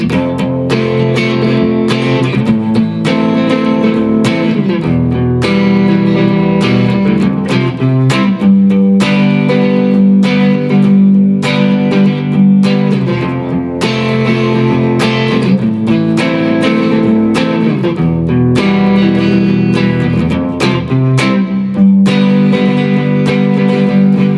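Electric guitar strums the steady verse chord progression of a song, rhythmic and continuous, loud and close with no voices.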